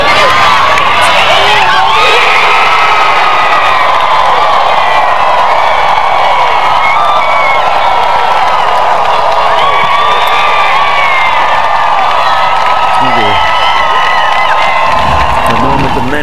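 A large golf gallery at the Solheim Cup 2017 singles roars with sustained cheering, whoops and shouts for over fifteen seconds, loud and dense, with scattered voices and applause mixed in.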